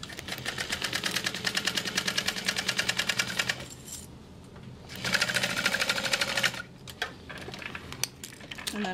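A home sewing machine stitches a garment with a fast, steady rhythmic clatter in long runs, pausing twice between bursts of stitching, close and clear.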